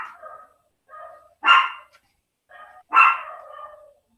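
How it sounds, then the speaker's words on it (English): A dog barks during a team meeting: two loud, sharp barks stand out among softer yips and whines, all close and with no talking over them. "we invited your dog to the meeting as well"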